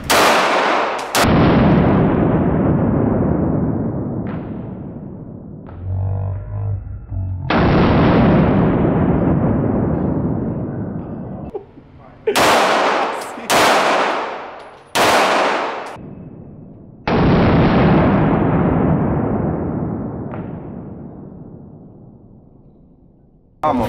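A shotgun is fired at target practice, several loud, sharp blasts spaced several seconds apart, each ringing out in a long echoing decay outdoors.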